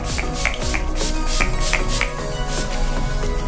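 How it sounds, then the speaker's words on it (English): A Maven Beauty Rose Water Prep and Refresh Spray gives a quick series of short, hissing spritzes in an irregular rhythm, close to the mic. "I'm going to go in with the Maven Beauty Rose Water Prep and Refresh Spray."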